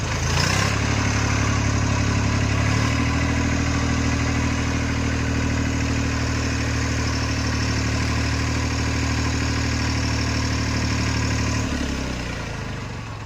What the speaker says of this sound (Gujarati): ટ્રેક્ટરના એન્જિનનો વિડીયો પણ તમે જોઈ શકો છો